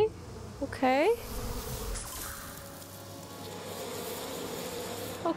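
Buzzing bees in the video game Psychonauts 2 hum continuously throughout, a moderate steady drone beneath a brief sliding voice-like tone near the start.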